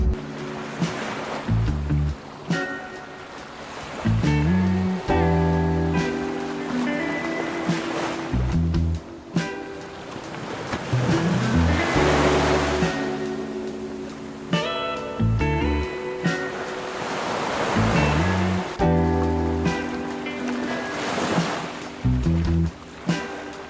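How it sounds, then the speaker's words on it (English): Surf on a Florida park beach rolls in with repeated swelling and breaking waves, a steady wash rising and falling, heard alongside a loud tonal layer that runs throughout. "Came out for just a little walk on the beach today."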